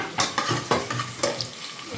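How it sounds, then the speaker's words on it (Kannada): Onion fries in a little oil for a tempering with a bright, close sizzle broken by several quick scraping strokes of a spatula against the pan, about four rhythmic stirs in two seconds. "ಈರುಳ್ಳಿ ಚೆನ್ನಾಗಿ ಫ್ರೈ ಆದಷ್ಟು ಟೇಸ್ಟು ಚೆನ್ನಾಗಿರುತ್ತೆ"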